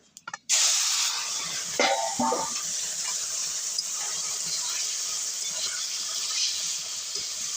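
Mustard seeds hit hot oil for a tempering, bursting into a loud, steady hiss and sizzle, with a couple of sharper sputters early on before settling into continuous frying noise.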